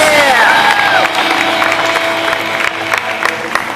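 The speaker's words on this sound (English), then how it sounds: "Let's get a big round of applause for all of our competitors." A live stunt-competition audience claps and cheers for the competitors, a dense, loud wash of applause with scattered whoops and shouts that holds steady throughout.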